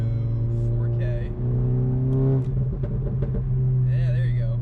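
Car engine revved to about 4000 rpm, with a steady loud engine drone overlaid by crisp exhaust crackles and pops, close by and continuous throughout.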